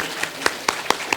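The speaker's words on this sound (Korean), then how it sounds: "찬양대와 지휘자님께 우리 한번 격려의 박수 한번 올려드리십시다" A church congregation at a Christmas cantata service gives a few sparse, spaced hand claps that ring out in a quiet hall.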